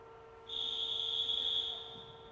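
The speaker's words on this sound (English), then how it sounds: "A lot of whistle blowing by the referees." A referee's whistle at a girls' junior varsity volleyball game blows one sustained shrill blast lasting just over a second, clear and prominent above a quiet gym hum.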